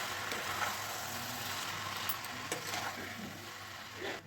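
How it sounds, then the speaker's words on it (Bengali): Mutton pieces stirred with spices in a hot pan, a steady sizzle with occasional scraping and light clinks of the spoon against the metal, close and continuous. "সমস্ত মশলার সঙ্গে মিশিয়ে দেবো।"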